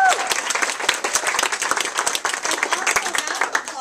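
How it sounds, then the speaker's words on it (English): A bookstore audience at a teen author event claps in a dense, steady round of applause that carries on evenly throughout, with a brief voice at the very start. "round of applause for the amazing Maggie and Meg."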